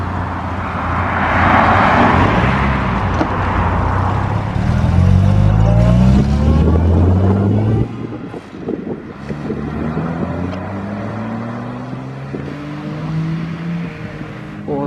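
At an outdoor breakfast meet for classic and sports cars, a classic car engine runs and revs with rising and falling tones. Heavy wind buffeting masks it at first, and the engine settles to a steadier idle.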